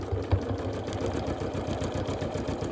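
A home sewing machine quilting a scrap-fabric table runner, its needle running in a steady, close mechanical patter that keeps a fast even rhythm throughout with no talking.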